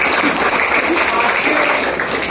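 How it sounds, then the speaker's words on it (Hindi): An indoor audience at a business event gives a burst of dense, steady clapping that fills the whole short stretch. "फिर से एक बार जोरदार तालियां।"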